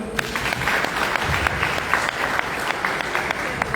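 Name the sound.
church congregation applauding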